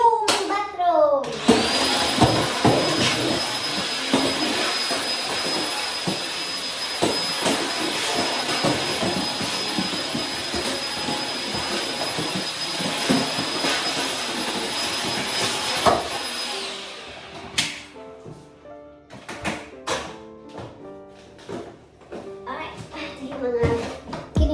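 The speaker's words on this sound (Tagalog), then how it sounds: "Tayo ay mag-vacuum ng bathroom." A vacuum cleaner running in a bathroom drones steadily for about fifteen seconds, loud and close, then cuts off, with someone talking over and after it and some handling clatter.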